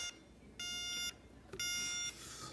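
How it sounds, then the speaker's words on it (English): A vintage alarm clock built by a NASA engineer goes off again after its snooze, giving two bursts of bright electronic beeping separated by a short pause, close and clear. "the snooze button obviously works because 10 minutes later, there it goes"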